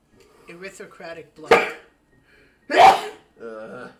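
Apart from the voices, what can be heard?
character sneezing in video game Iconoclasts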